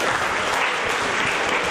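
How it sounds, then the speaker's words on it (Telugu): Loud, steady applause from a crowd at a Teachers' Day event held by a welfare society, dense clapping filling the whole stretch without a break. "సార్ గట్టిగా చప్పట్లు కొట్టారు సార్ కూడా"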